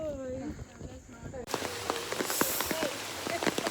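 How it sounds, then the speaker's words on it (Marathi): Heavy rain pours at a resort cottage, a dense patter on surfaces with scattered louder drops, preceded by a brief stretch of voices and tonal sound. "खूप पाऊस आहे आणि असं इकडे कॉटेजमध्ये"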